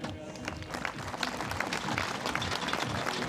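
Spectators applaud steadily at a women's recurve archery team bronze match at a World Cup stage in Berlin, a dense, sustained clapping that holds at even loudness throughout.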